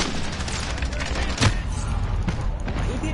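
Dense, continuous gunfire and muffled booms from a modern first-person shooter game, with a louder burst partway through and voices talking over the steady rattle of weapons fire.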